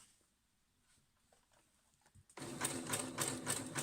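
A sewing machine runs a green-threaded zigzag stitch, starting abruptly after a quiet moment and then whirring steadily with a rapid mechanical patter, close and fairly loud.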